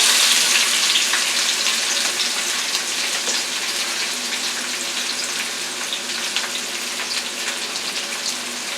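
Onions fry in a pan with a loud, bright, steady sizzle that holds evenly throughout, with no talk.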